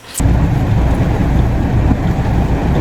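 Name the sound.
heavy rain and wind outdoors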